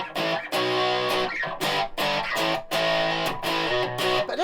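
An Avon EB6 six-string bass guitar played through a distorted, effects-laden amp, a rhythmic run of gritty, sustained notes with short gaps, loud and close with no talking.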